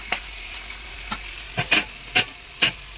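Spiced meat being sautéed in a pan, with several sharp stirring scrapes and brief sizzling bursts over a low steady background.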